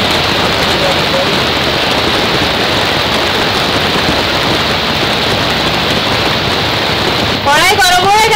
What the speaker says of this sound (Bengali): আজকে প্রচন্ড বৃষ্টি হচ্ছে।